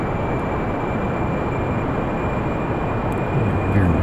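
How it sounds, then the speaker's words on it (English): Engine of a space shuttle in the Kerbal Space Program video game roars in a loud, steady, broadband rumble with a faint tonal whine, swelling slightly toward the end, with no talk. "You can hear the engine pitch increasing."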